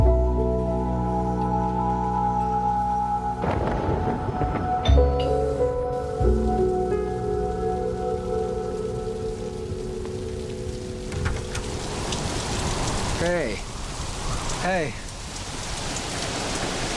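Steady rain falls throughout as an audio drama sound effect, a constant wash with some tonal background sounds layered over it.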